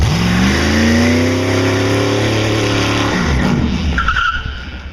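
A Boss Hoss power cruiser motorcycle accelerates hard, its loud engine revving up through the gears alongside a skidding tire squeal, then cutting off abruptly after about three seconds as the noise drops away.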